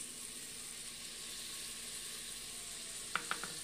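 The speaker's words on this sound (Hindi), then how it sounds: "अब हम इसमें टमाटर डाल देंगे" Tomatoes frying in sizzling oil for black masoor dal make a soft, steady hiss, quiet and even, ending in three quick metallic taps.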